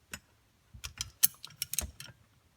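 A wrench clicks and ratchets in short irregular bursts on the compressor wheel nut of a Ford GTP38 turbo from a 7.3 Powerstroke, close and crisp against silence, with no talk.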